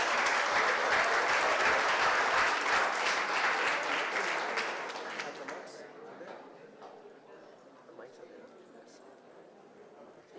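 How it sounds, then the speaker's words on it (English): Hackathon audience bursts into loud, dense applause, sustained for about five seconds before fading to scattered claps and quiet room noise. "Let's give them a huge round of applause."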